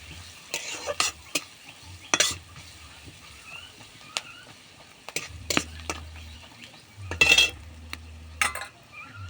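A spatula scrapes and knocks intermittently around a pot of khichuri as turmeric and chili powder are mixed in. Brief bursts of stirring are separated by quiet pauses, with a faint sizzle underneath.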